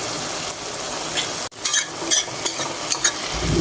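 Tomatoes, cracked pepper and chili being stirred in a sizzling pan, close frying crackle with a sharp break and then repeated clinking spoon strokes against the pan.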